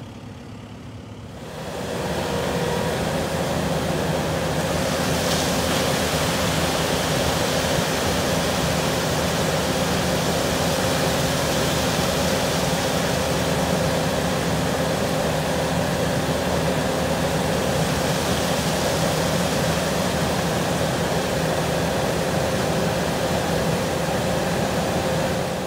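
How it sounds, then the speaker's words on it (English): Concrete pours steadily from a truck into runners for mobile home pads, producing a continuous loud rushing roar mixed with engine drone that starts abruptly and holds unbroken to the end. "fixing to have the concrete poured in them runners there"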